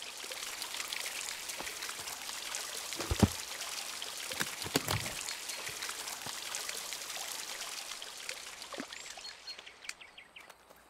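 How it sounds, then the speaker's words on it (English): An object falls into water in the video game Botany Manor, with continuous splashing and trickling water alongside faint bird calls in the background. "Trips and drops it in the water."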